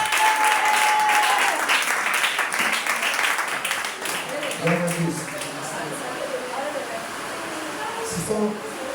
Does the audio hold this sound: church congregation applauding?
yes